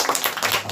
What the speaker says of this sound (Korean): 축복 박수 보내십니다